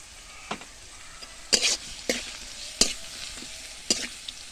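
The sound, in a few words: garlic paste frying while being stirred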